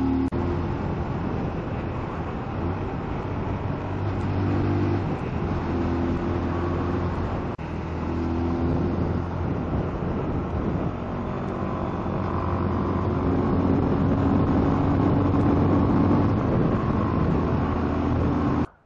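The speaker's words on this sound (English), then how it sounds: "You can hear the noise of the engine." A car engine labouring up a high mountain pass near 4,800 m, lacking power, a steady droning hum with low tones heard from inside the vehicle and no talk.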